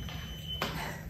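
A household dishwasher at the end of its cycle gives a single short, high electronic beep, faint against steady room hum.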